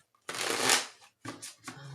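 A deck of Somnia Tarot cards is shuffled by hand in a few quick riffled bursts, close and fairly soft, with short pauses between them and no talking.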